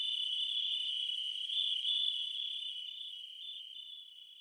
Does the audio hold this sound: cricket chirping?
yes